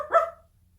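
A voice imitates a dog's bark, one short, loud 'woof' alone in a quiet room.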